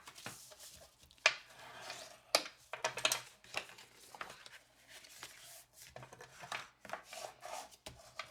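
Paper card box for A2 greeting cards being folded together by hand, starting with the bottom, giving soft scattered creases, taps and crinkles of card stock, close but quiet, with irregular small clicks and rustles.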